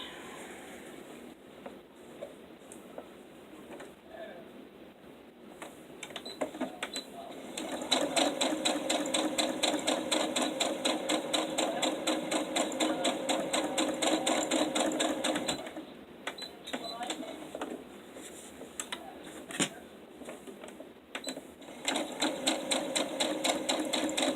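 A sewing machine with a basting stitch runs in several bursts of rapid, even mechanical clatter, starting and stopping with short pauses between, close and fairly loud with no talk over it.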